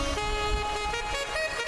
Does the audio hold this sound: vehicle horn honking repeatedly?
yes